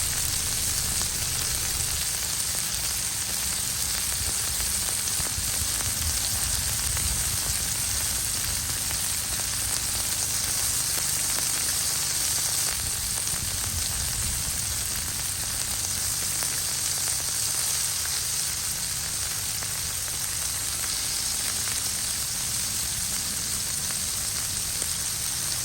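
Burgers sizzle steadily on a Blackstone griddle: a dense, continuous crackling hiss that holds even and close throughout, with no talking.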